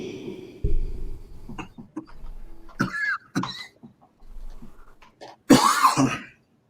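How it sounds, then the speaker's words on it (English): A person coughs and clears their throat once, loud and close, near the end, after a stretch of quiet with faint, scattered noises. "I said toffee, not coughing."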